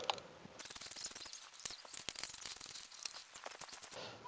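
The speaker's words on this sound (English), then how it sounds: "With a 16mm spark plug socket on an extension, loosen all the spark plugs about 2 turns." A ratchet with a 16mm spark plug socket on an extension loosens the spark plugs of a Saab 9-3, making rapid, close, steady clicking with a few short breaks.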